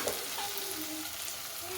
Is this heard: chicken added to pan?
yes